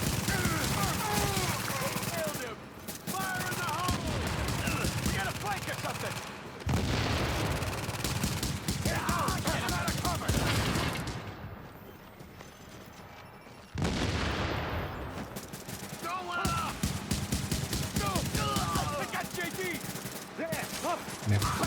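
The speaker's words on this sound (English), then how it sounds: "Some bad shooting on my end." Video game gunfire crackles in rapid bursts and sustained volleys, loud and close, broken by brief pauses, with a voice talking over parts of it.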